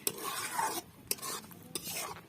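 Mutton and masala stirred in a hot pan while sautéing, with a spoon scraping in short repeated strokes over a soft sizzle, close and moderately quiet.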